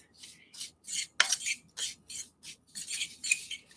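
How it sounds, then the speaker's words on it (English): A utensil stirs and scrapes a dry mix of flour and Cajun seasoning in a bowl, making quick rhythmic rasping strokes with a clink against the side, close up and with no talk. "So now I'm just going to mix all these ingredients together for our dry mix."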